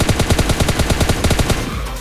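Rapid automatic gunfire sprays in the PUBG Lite battle royale game, a loud, dense string of about a dozen shots fired in quick rhythm before trailing off, with no talking.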